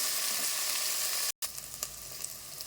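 Chopped onions and green chillies fry in hot oil until golden, with a dense, loud, hissing sizzle that cuts out for a moment, then resumes with a few light stirring clicks, close up and with no talking.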